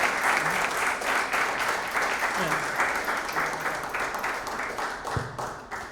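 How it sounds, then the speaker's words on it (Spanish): An audience at a talk on comics documentaries applauds a guest with steady, close clapping that carries through the whole stretch before tapering slightly. "vamos a pedir un aplauso para Diego, invitado que tenemos acá."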